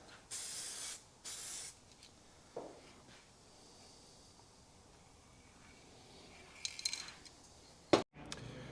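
Aerosol can of gloss structural steel paint spraying toolbox parts for a Triumph Rocket 3 in two strong hissing bursts near the start, then quiet handling noises and small clicks before a sharp knock near the end.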